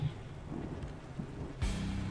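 The Wrathful Rain ability effect in the video game Othercide sounds as a stormy rush of rain and thunderous rumble, quiet at first, then swelling into a sudden loud hiss near the end.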